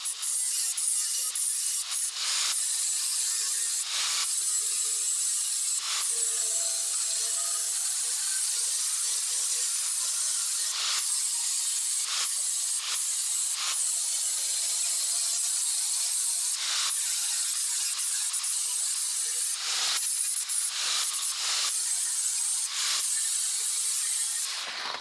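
Sheet metal trim being ground or cut off a truck bumper, a loud, continuous, harsh hiss that runs steadily for the whole stretch with brief momentary dips in intensity.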